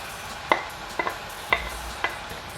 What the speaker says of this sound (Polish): Wszystko razem mieszam.